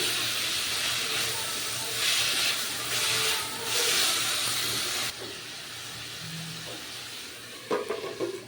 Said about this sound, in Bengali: আর আমি এটা হাই হিটে ভেজে নিচ্ছি